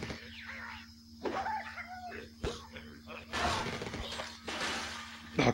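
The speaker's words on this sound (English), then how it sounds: "Broken glass!" Glass shatters repeatedly in the physics game Eggs vs. Bacon, several sharp crashes and breaking bursts in quick succession among other game effects, with a voice briefly audible.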